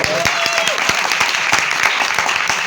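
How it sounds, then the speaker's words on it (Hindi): A crowd claps for a performer at a Hindi bhajan show, dense steady applause with sharper individual claps standing out, close and loud throughout, with a faint tone briefly underneath. "भाई एक बार ताली तो बनती है बाबा को।"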